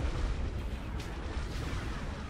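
Continuous low, rumbling ion cannon fire in Star Wars: Empire at War, with dense booming bursts, steady and loud throughout, like heavy cannons firing in a space battle.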